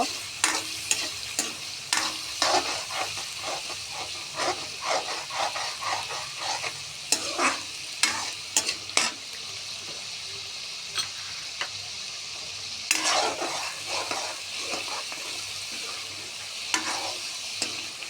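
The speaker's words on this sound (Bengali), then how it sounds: "তারপর দিয়ে দেব দুটো কাঁচা লঙ্কা দিয়ে হালকা করে ভেজে নেব।" Green chillies fry in hot oil in a pan while being stirred, a steady close sizzle broken by frequent sharp scraping clicks of the spoon, no voices.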